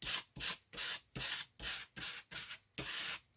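An old holiday card scrapes gesso or paint across a journal collage page in quick, regular rasping strokes, about two per second, close, dry and papery, with brief gaps between passes and no talking.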